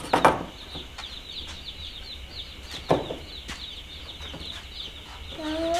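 Baby chicks in a box on a homestead peep in a faint, steady chirping chorus, with a couple of sharp thumps or scrapes and a brief louder cheep near the end.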